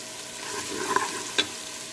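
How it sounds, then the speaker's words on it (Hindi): Garlic ginger paste fries in hot ghee with a soft, steady sizzle, broken by a couple of brief clinks of a utensil against the pan. "अब उसी घी के अंदर लहसुन अदरक डालेंगे।"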